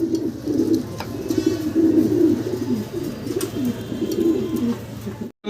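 Low, throaty cooing from fancy Golla pigeons repeats steadily throughout, several birds overlapping close by, with a faint background hum and no talking.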